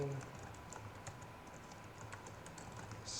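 Computer keyboard typing while writing code, heard as faint, scattered key clicks in quick irregular bursts over a quiet background, with no talking.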